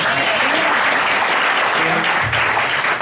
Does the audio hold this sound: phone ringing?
no